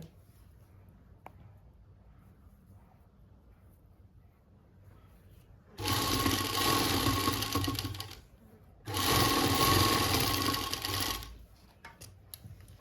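An interlock sewing machine stitches lace onto a dupatta in two loud, steady bursts of whirring motor and rapid needle chatter, separated by a short pause over a quiet room.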